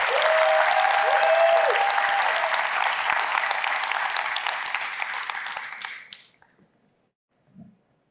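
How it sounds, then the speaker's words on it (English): Large keynote audience at a tech conference claps in a sustained round of applause with a brief cheer early on, holding steady for about six seconds before cutting off into near silence and a small thump. "Let's give them a big round of applause."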